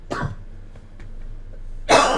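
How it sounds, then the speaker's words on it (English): A person with a lingering chronic cough after an illness gives a short, close cough at the start, then a louder, harsher cough with throat clearing after a brief quiet pause. "if I'm coughing"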